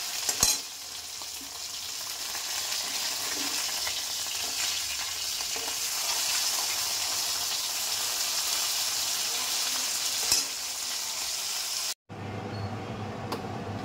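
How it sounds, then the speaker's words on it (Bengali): Bhetki fish heads frying in oil while being pressed down, a steady loud sizzle with occasional utensil knocks, cut short near the end and followed by a quieter, hollow hiss. "ওই জন্য একটু চেপে চেপে মাথাটা ভেজে নিতে হয়।"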